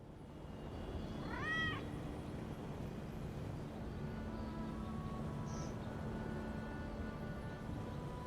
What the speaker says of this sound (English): there's a ghost kitty